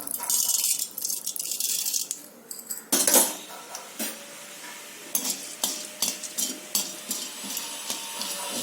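Chana dal drops into hot oil in a pan with a rattling pour and then a light sizzle, followed by a run of close metallic clinks and scrapes from a spoon.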